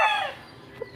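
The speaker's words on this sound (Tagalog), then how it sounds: "So isa po itong Martin Escolin Boston Roundhead Pure" A Boston Roundhead gamefowl rooster gives a short, close crow that trails off quickly, heard alone at a gamefarm.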